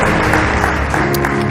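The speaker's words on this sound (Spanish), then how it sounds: "Den un fuerte aplauso al Rey de Reyes y al Señor de los Señores." Loud, dense applause from a church congregation during a Christian program, continuous clapping filling the whole moment without speech.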